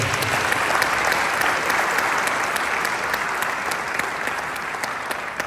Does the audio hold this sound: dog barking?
no